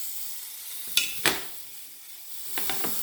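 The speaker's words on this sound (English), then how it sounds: "to that, I'm going to add the garlic" Chopped garlic dropped into hot olive oil in a pan, giving two sharp bursts of sizzle followed by a softer hiss and a few light stirring clicks near the end.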